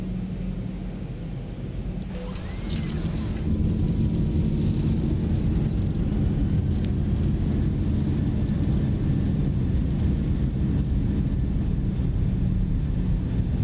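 Reverse thrust roar from a KLM Boeing 737-800 just after touchdown at London Heathrow in a flight simulator: a loud, sustained broadband engine rush that swells after a couple of seconds and holds steady to the end.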